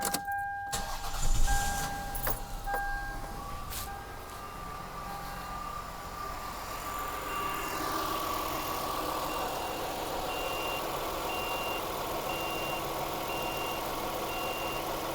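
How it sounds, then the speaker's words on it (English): Car engine cranks briefly and catches, then settles into a steady idle that runs on for over ten seconds, accompanied by dashboard chimes and beeps early on; heard close with no one speaking, during a battery test. "I'm going to leave this here for a second and start the engine."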